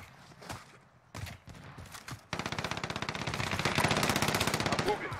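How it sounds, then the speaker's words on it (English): Airstrike gunfire in a console battle royale video game: a rapid, dense volley of loud machine-gun bursts that builds and sustains after a few scattered earlier shots, with faint speech beneath. "And I got an airstrike."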